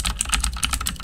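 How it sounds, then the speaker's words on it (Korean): Rapid, steady typing on a computer keyboard, dense close clicks and clacks of keys in a quick irregular rhythm with no voices. "지금 방송에 이 키보드 소리가 상당히 크게 들어갈 수 있으실 텐데 요"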